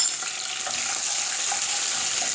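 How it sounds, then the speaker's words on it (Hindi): Curry leaves and cumin seeds hitting hot mustard oil give a steady, close, hissing sizzle that holds evenly throughout with faint crackles, no voices. "इसमें 10-12 कड़ी पत्ते डाल दिए और साथ ही 1 टीस्पून ज़ीरा"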